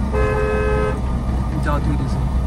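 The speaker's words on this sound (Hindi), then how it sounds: "हॉर्न" A car horn on narrow, rough village lanes gives one sustained honk of about a second over a low engine and road rumble, then a voice follows.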